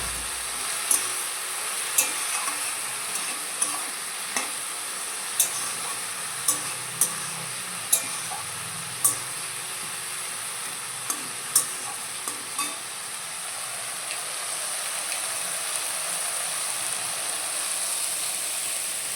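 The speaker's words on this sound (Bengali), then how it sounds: "আমি সব কিছু একসাথে মিক্স করে দিয়েছি এবার নাড়াচাড়া করবো" Aamudi fish and vegetables frying in a pan, a steady hiss of sizzling oil punctuated by repeated sharp clinks of a spatula scraping and stirring, loud and close, with no talking.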